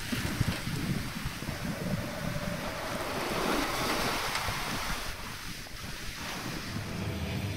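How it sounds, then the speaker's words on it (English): A Pegasus 50 sailing yacht under sail at sea in the Balearic Islands at around 8 to 9 knots, with steady broadband wind rush and the continuous wash of waves along the hull, no talk. "we're sailing towards the Balearic Islands, doing 8 knots plus or minus up to 9"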